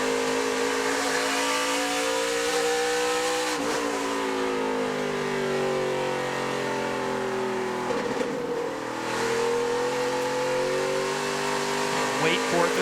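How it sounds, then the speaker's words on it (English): ARCA Menards Series race car onboard through a lap at the Liuna 150, its engine held loud and steady, then dropping back in pitch as the driver feathers the throttle and climbing again on exit, heard twice. "let's listen to a lap and just hear how he manages this throttle and exit"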